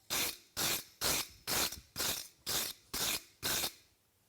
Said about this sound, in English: using the grinder, I normalize the coarseness of these nails here at the toe